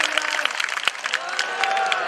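A crowd at a Nisan Pooja gathering for Ashadhi Bij at Parab Dham claps for a revered guest. The clapping is dense and close, and a voice can be heard over part of it.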